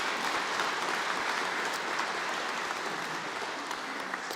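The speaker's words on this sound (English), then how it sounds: "Round of applause for them, please." An audience applauds at a community hub health and wellbeing night, a continuous even wash of clapping from a room full of people, steady in level throughout with no voices on top.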